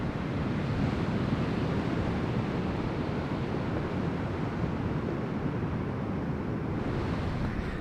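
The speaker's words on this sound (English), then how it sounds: "So I've made it to the beach." Ocean waves washing onto a beach at sunset, a steady broadband roar of surf with some wind noise on the microphone, continuous and fairly loud throughout, no voices.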